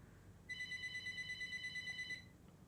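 A telephone rings with a rapid electronic trill for about a second and a half during a hurricane forecast broadcast, faint and steady over a low background hum.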